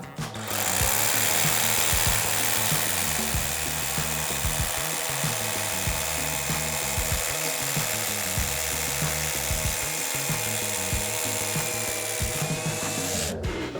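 A Dnipro-M DHR-202BC ULTRA rotary hammer drill hammers and grinds loudly and continuously at close range with a rapid pulsing rhythm, stopping abruptly near the end.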